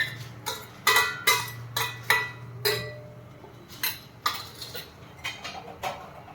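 A spoon mixes chopped cucumber into sandwich masala in a bowl, giving a dozen or so sharp metallic clinks and scrapes at an uneven pace. The sound is close and clear, with no talking.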